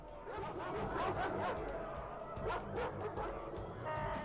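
War dogs in the video game Rome Remastered bark and yelp repeatedly in irregular bursts, fairly loud, mixed into a dense din of battle noise and crowd chatter.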